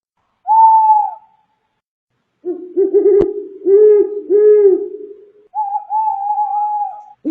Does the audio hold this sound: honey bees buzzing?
no